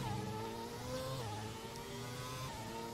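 A Ferrari Formula 1 car engine in the racing game F1 2017 whines at high pitch, revving up and shifting between gears, loud and steady with no talk.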